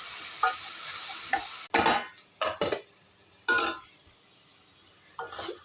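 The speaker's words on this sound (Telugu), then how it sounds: "పచ్చి బఠానీలు కూడా వేసుకొని ఫ్రై చేసుకోవాలన్నమాట" Potatoes and green peas fried with turmeric in a pan, a loud close hiss of frying broken by several bursts of stirring and spoon scrapes against the pan, with no speech.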